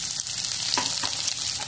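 Onions and green chillies sauté in a pan for rice rava upma, a close, even sizzle with a couple of soft stirring scrapes.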